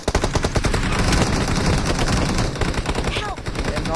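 Rapid bursts of video-game gunfire crackle loudly and almost continuously in an online shooter, stuttering into shorter volleys toward the end, with a voice talking faintly beneath the shots.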